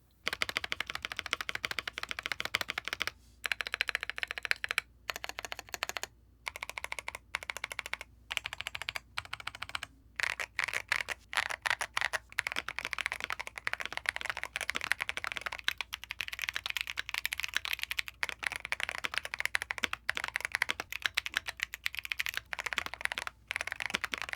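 Rapid, continuous typing on a Keychron Q1 Pro mechanical keyboard with mods, close and crisp, with a few brief pauses between bursts of clacky keystrokes.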